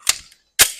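Two sharp pistol shots fired at a target on a shooting range, close and loud, spaced about half a second apart with quick decays.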